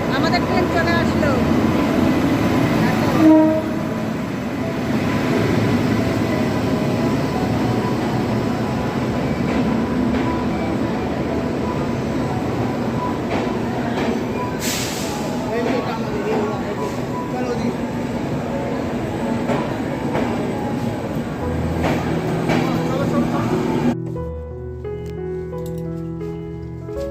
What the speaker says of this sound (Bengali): দেখো বন্ধুরা, আমাদের ট্রেন চলে আসলো।